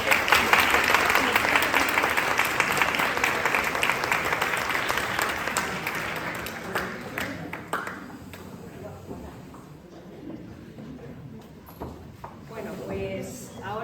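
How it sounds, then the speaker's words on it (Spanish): Applause from a university event audience, loud and dense for the first six seconds, then thinning to scattered claps and murmuring voices as it fades toward the end. "Damos un aplauso."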